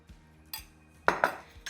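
Spoon clinking against a bowl while vegetables are mixed into curd for raita, heard as a few sharp, close metallic taps and scrapes spaced irregularly with quiet gaps between them.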